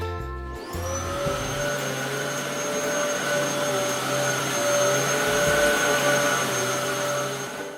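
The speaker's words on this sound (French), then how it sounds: "Elle coupe le plâtre mais chatouille la peau. Et elle fait du bruit, un peu comme un aspirateur." A steady, loud whining drone from an oscillating saw cutting a plaster cast in a hospital runs throughout, with a high buzzing tone over a rough low rumble and no talk.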